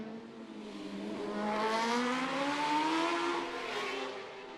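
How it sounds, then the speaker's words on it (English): Superbike during practice at the Macau Grand Prix street circuit sweeps past at a distance, its engine note rising and falling through gear changes, a moderate, smooth whine that swells and fades over a few seconds. "Davey Todd on a superbike, the Burroughs engineering machine that Mike Brown has ridden this season"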